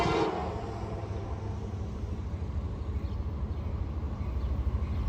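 A northbound freight train on an old B&O line rumbles past a railroad crossing with the gates down, a steady low roar with faint horn tones at the start and no talk over it.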